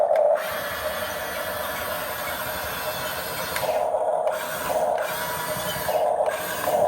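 A small RC bulldozer's track chain turns continuously with a close, steady mechanical whir and rattle, the level swelling in a few brief rhythmic surges, with no voices over it.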